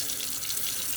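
Running water pours steadily from a tap into a container of seeds being soaked for growing sprouts at home, a continuous broadband splash close by with no one speaking.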